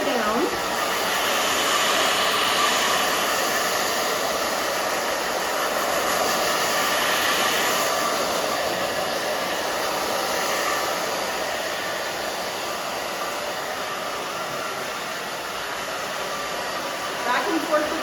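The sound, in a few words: hair dryer drying hair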